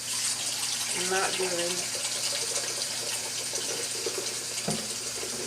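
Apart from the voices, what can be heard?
tap water running into kitchen sink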